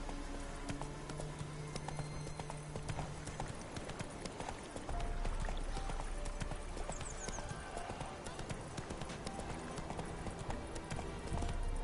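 Roach's hooves clip-clop steadily in The Witcher video game, a continuous trotting beat under game music and ambience, with brief talk over it.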